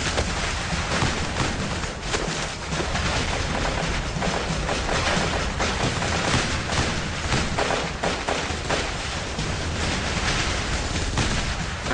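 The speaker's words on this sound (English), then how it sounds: "The only cover was provided by our own gunfire." Heavy gunfire during a mountain battle against Al-Qaeda fighters, with a dense, loud, continuous crackle of shots and booms filling the whole stretch with no let-up.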